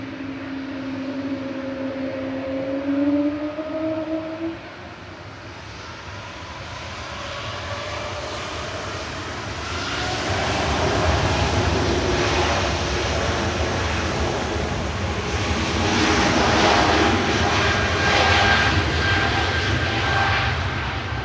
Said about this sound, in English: I love the noise of those engines.